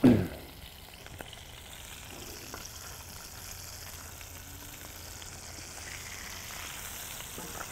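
Garlic fries in a pan with a steady, soft sizzle that holds evenly throughout, after a brief clatter at the start, with no talking.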